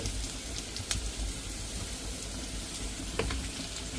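Tomatoes sauté in hot oil with a continuous sizzling hiss, broken by a couple of faint clicks as they are stirred, and no voices.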